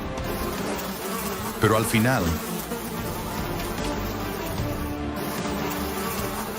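Bees buzz around a honeycomb as a baboon raids it. The dense, continuous insect drone persists throughout while a voice speaks briefly over it.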